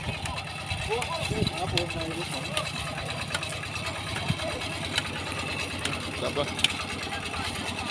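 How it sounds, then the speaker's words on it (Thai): A small engine runs steadily with a continuous buzzing drone near a fish pond, and people talk loudly over it. "ดับเครื่องก่อนบอ หนวกหูปิดก่อน"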